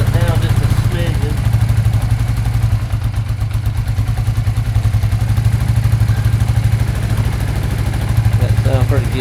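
A 26-year-old Arctic Cat 300 4x4 ATV under restoration idles with a steady low rumbling throb, close and loud, running evenly throughout with a faint clatter.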